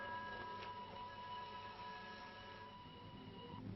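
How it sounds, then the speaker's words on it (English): An approaching train rumbling in a 1941 film, thundering down a valley: a faint, continuous low roar with steady tonal whine, muffled and distant throughout. "It is a train. Thundering down the valley."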